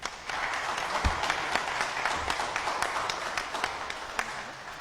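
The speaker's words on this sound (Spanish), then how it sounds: "Démosle un fuerte aplauso," Applause from a seminar audience on suicide, a steady wash of many hands clapping at moderate distance for about five seconds, no voices over it.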